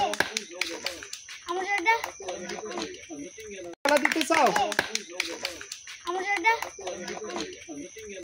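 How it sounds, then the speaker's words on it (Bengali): Gathered people clap for children winning prizes in a game, quick scattered handclaps rising in bursts between children's chatter and an adult voice speaking over them. "সবাই সিয়ামের জন্য হাততালি এবং সাইফের জন্য হাততালি।"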